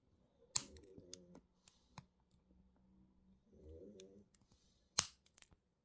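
Jewellery wire ends are snipped for a wire-wrapped pendant, two sharp close cutter clicks several seconds apart amid small handling taps, in an otherwise quiet room.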